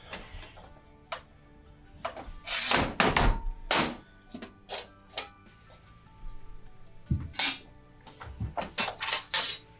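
Keencut Excalibur 5000 sheet cutter being handled, a sequence of sharp ticks, knocks and heavier clunks of the clamp and mechanism, spaced irregularly and close by.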